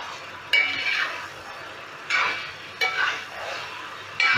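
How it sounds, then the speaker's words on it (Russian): Spices and meat are stirred in a kazan while plov is being cooked. The utensil scrapes and clinks against the pot in several short, separate strokes, with a soft sizzle underneath. "Перемешиваем."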